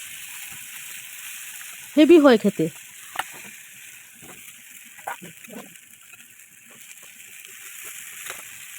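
Spoonfuls of onion-leaf bora batter fry in hot oil in a kadai pan, giving a steady bright sizzling hiss throughout. Someone speaks briefly near the start, and faint clinks follow.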